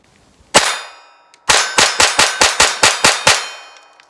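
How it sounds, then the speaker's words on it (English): A Ruger LCP II .22 pistol firing at steel targets, each shot ending in a bright ringing clang: one hit, a pause, then eight quick evenly spaced strikes, loud and close, each ringing briefly. "I can just sit here and shoot all day."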